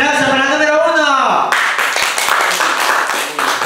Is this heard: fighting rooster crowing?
no